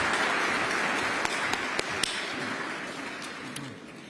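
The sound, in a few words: applause for speakers at a Veterans Day breakfast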